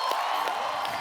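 A studio audience on The Kapil Sharma Show cheers and claps to welcome the Mirzya director Rakeysh Omprakash Mehra and Harshvardhan Kapoor, a short, steady wash of crowd noise with a few whoops.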